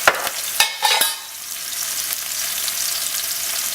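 Food sautéing in a hot pan with a bit of salt: a few clattering stirs at first, then a steady close sizzle on its own.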